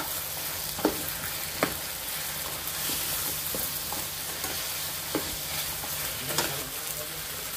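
Ground ginger, garlic, coconut and coriander paste sautéing in a pan: a soft continuous sizzle with a few sharp taps and scrapes of a spoon stirring, no voices.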